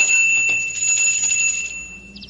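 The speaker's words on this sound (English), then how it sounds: "by its ancient gate pulled on the bell cord" Monastery gate bell rung by pulling its cord, a few clear bright strikes ringing out close and loud, then fading, with a faint higher chime at the end.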